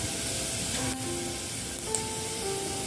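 Cumin seeds sizzle in hot oil in a kadhai, a steady, close, continuous hiss that holds evenly throughout.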